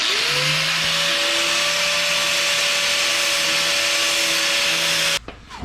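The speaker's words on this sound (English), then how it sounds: "so this is the angle I have to grind" An angle grinder works on a car exhaust manifold during drift car prep, its motor winding up to a steady high whine with loud broadband grinding noise for about five seconds before cutting off abruptly.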